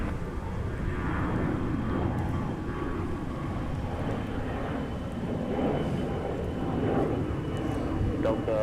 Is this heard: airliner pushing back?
yes